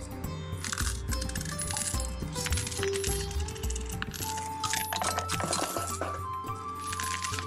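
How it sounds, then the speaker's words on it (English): Coins tossed into a gambling coin pusher machine, a continuous metallic clinking and chinking of coins striking and sliding over each other, busy and close throughout. "So they throw some coins in there."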